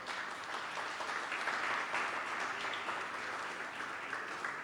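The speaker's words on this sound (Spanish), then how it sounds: "un aplauso al elenco" A church congregation applauds the cast of a sermon drama, a faint, distant wash of steady clapping that holds evenly throughout with no voices standing out.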